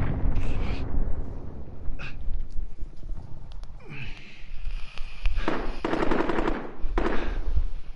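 Rapid bursts of automatic gunfire in a Teenage Mutant Ninja Turtles battle royale trios match, loud and repeated throughout, mixed with explosions and game effects.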